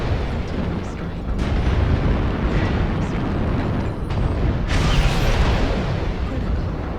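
Artillery strike explosions rumble and boom in the MechWarrior Online game, a loud, continuous barrage of deep blasts with a fresh burst near the end, heavy and close.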